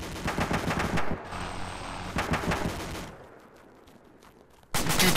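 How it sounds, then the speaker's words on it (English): DShK heavy machine gun firing in the video game ARMA 2, loud rapid bursts of automatic fire broken by short pauses and a quieter stretch before a final burst. "Did you hear it? I mean, it's a Dishka US."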